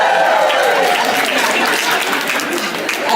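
An awards ceremony audience cheers and applauds loudly, a sustained roar of clapping and shouting voices that holds at full strength across the whole moment.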